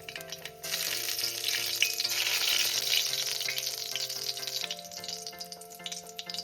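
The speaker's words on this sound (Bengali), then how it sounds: "দেখো আমি প্রথমে দিয়ে দিচ্ছি কালো জিরে ফোড়নে" Black cumin (nigella seeds) dropped into hot oil, a loud, steady sizzle bursting up and holding for several seconds for a mixed onion-stalk fry, with a faint tonal hum beneath.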